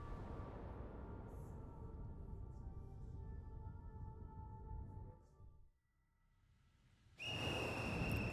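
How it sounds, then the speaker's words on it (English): A small raincoat-clad monster in the Ghostwire: Tokyo video game blows a whistle, a sudden loud, sustained shrill tone breaking in near the end after a dark ambient drone fades to a hush. "As the monstrous little raincoat visitor blows his whistle, he steps back into the shadowy darkness."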